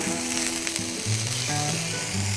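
Turkey and pepper jack melts frying on a hot griddle, a steady loud hiss of sizzling fat close up, with no voices.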